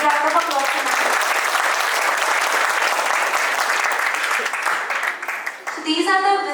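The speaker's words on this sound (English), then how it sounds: "Big round of applause to her." Loud, sustained applause from a crowd at a university induction ceremony welcoming a new assistant professor, dense clapping with a voice heard over it at the start and end.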